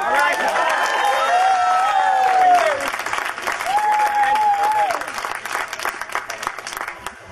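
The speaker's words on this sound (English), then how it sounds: "give her a round of applause" A crowd applauds a speaker at a community gathering, with steady clapping and some cheering throughout, while voices ring out over it and the claps thin into scattered, distinct hits toward the end.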